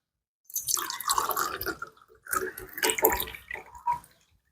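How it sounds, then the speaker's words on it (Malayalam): Boiled clove water is strained into a glass, making an uneven splashing trickle in two bursts separated by a short pause, close and fairly clear, with no talking. "ഇനി ഇത് നമുക്ക് അരിച്ചെടുക്കണം അതിനുവേണ്ടി ഈ ഇതേ ഗ്ലാസ്സിലേക്ക് നമ്മൾ ഇതൊന്ന് അരിച്ച് മാറ്റുകയാണ്"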